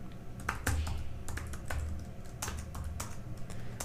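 Steady, close keyboard typing as code is written on a computer, with quick irregular key clicks and no voice over it.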